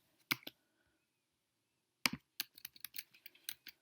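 Typing on a computer keyboard: two isolated key clicks, a short pause, then a quick irregular run of crisp, close taps in a quiet room.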